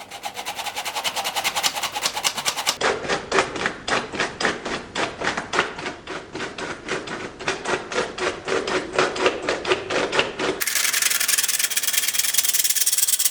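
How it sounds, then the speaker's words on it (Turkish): Dry cake ingredients, including baking powder and a pinch of salt, are shaken through a sieve, giving close, rhythmic rubbing and scraping strokes that repeat in quick pulses. "Bütün toz malzemeleri elikten geçiriyorum."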